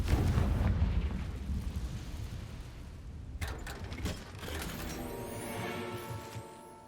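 A Confringo blasting spell explodes in Hogwarts Legacy, a loud rumbling blast that fades and gives way to crackling mechanical rattles and a lingering ringing tone.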